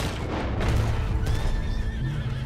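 In the Red Dead Online game, a horse whinnies loudly and close, with a rising, quavering neigh over a low rumbling game background.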